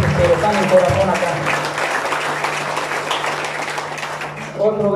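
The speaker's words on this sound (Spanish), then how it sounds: "Un fuerte aplauso, por favor, para ellos" Guests applaud at a quinceañera celebration, a continuous roomful of clapping with crowd murmur and a low steady hum, thinning out at the end as a voice returns.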